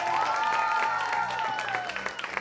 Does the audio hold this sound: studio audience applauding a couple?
yes